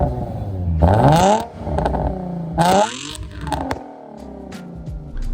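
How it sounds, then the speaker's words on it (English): A Nissan 350Z with a VQ engine and an X-pipe exhaust revs in two sharp bursts, each climbing in pitch and falling back to a rumbling idle, close and alone. "I threw that X pipe on it so that it could be a lot more high pitched, sound more of a VQ"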